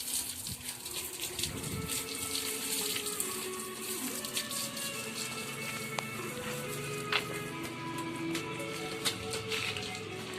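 Water runs and splashes steadily while a car is washed beside a narrow neighborhood road, a continuous wash of spray with scattered sharper drips and taps throughout.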